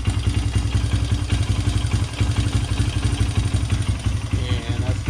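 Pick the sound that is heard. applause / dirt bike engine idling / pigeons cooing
dirt bike engine idling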